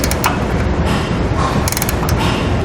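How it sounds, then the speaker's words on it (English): A ratchet tightens base plate mounting hardware on a 2016 vehicle, a loud, close, continuous rapid clicking that lasts the whole time. "Then we're going to torque our hardware to the specifications and the instructions."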